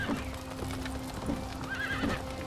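Horse neighing in the video game Steed, several whinnies spaced through the clip over a steady game background hum, with faint hoof clip-clops.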